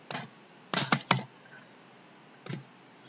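Typing on a computer keyboard while writing an HTML and AngularJS example program, heard as short close clusters of crisp key clicks with pauses between bursts.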